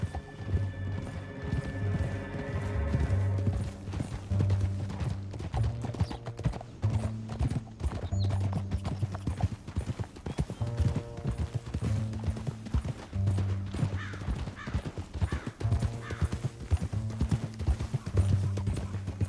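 Horses galloping in Red Dead Redemption 2, a fast steady clip-clop of hooves with occasional snorts over a low music score, continuing throughout.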